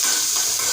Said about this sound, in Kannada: ಹಾಗೆ ಫಸ್ಟು ಈರುಳ್ಳಿ ಮತ್ತು ಮೆಣಸಿನ್ಕಾಯನ್ನು ಹಾಕ್ತಾಯಿದ್ದೀನಿ.